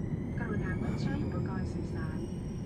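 A steady, broad roar of an airplane in flight, bound for Cork with a stopover in Dublin, hums continuously under spoken narration.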